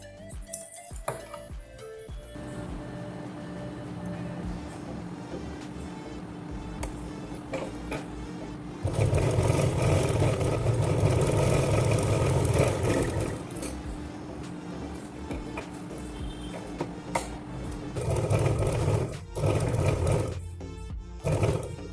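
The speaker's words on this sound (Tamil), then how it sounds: "இந்த இடத்துல சிலிம்பல்கள் தெரியாமல் இருக்கிறதுக்காக ஒரு பைப்பிங் வச்சு தைச்சிடலாம்" Sewing machine stitching piping onto a fabric purse made from a blouse piece, a steady mechanical whir that runs continuously, louder and busier midway, with no voices.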